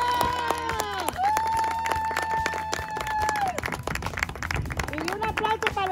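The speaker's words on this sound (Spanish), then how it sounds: "Entonces, un fuerte aplauso para todos ellos." Parents and children clap at a youth football trophy ceremony for the Chivas club, with scattered sharp handclaps beneath loud, sustained voices calling out over the crowd.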